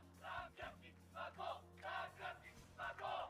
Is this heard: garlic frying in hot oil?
no